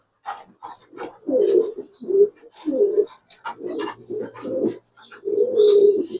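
Giribaz and racer pigeons at a pigeon farm give a run of close, throaty coos in short repeated bursts, with brief pauses between calls and no one talking.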